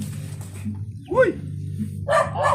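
A dog gives a couple of short barks and yips among people talking outdoors on a farm with a banana grove, the barks fairly close and mixed in with the voices.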